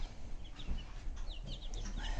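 Speckled Sussex chickens cluck in short, scattered calls over a steady low background murmur, fairly close and moderately loud.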